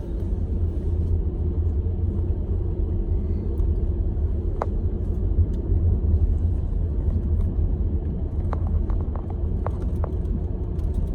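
A 2000 Cadillac DeVille limousine cruising at about 35 mph on a small road, giving a steady low engine and road rumble throughout with a few faint light clicks near the end.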